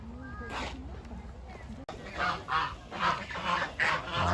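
Small ducks call in a steady series of soft honks and chatter, close up at a zoo, with a person talking faintly in the background.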